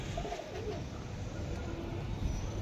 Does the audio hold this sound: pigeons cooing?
yes